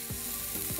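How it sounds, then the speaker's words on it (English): Steaks sizzling on a griddle, a steady close hiss of frying fat with faint scraping strokes underneath, no voices. "not the sizzle I was really looking for."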